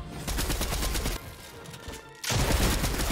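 Rapid automatic gunfire in the video game Fortnite Chapter 3, loud and continuous, with a short lull in the middle before the burst of shots resumes at full force.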